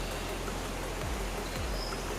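Westquarter Glen waterfall in Falkirk pours as a steady, dense broadband rush, constant and fairly near, with no talk.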